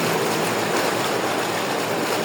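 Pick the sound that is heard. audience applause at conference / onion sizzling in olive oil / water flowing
water flowing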